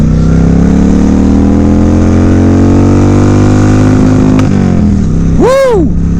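Motorcycle over 800cc, loud and close, holds a steady low engine drone with dense harmonics, then blips the throttle so the revs climb and fall in a sharp rising-and-dropping sweep near the end.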